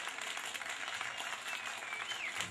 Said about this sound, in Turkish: Alkışların en güzeli, öncesinde benim güzel ekibim, sevgili Bertu, sevgili Erdi ve sevgili Hüseyin için böyle güçlü gelsin mi?